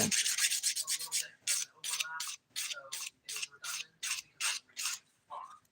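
A fingernail file rasps across the bumpy, wavy corner edge of a pinky nail during a DIY dip powder manicure, in about a dozen quick, close strokes with short gaps between them, and no talking.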